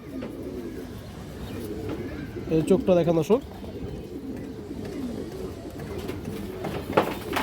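Giribaz high-flyer pigeons coo close by beneath someone talking, with a brief fluttering burst of calls in the middle.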